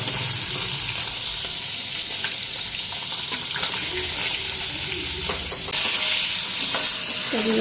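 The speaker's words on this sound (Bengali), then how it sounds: "মাছগুলি উঠাই নেই বেশি করকড়া করে ভাজুম না" Koi fish fry in hot oil in a home kitchen, giving a steady, fairly loud crackling sizzle throughout with occasional stirring scrapes and a brief louder burst of spatter near the end.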